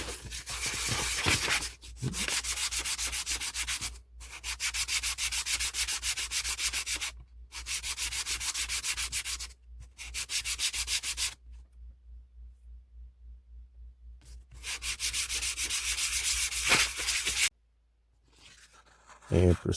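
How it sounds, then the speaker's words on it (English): Brass knife guards sanded by hand on 400 grit sandpaper wet with Windex, a steady loud rasping scrub in long back-and-forth bursts separated by short pauses. "I'm going to prep the top and bottom surfaces of the brass guards here. Start with a 400 and some Windex."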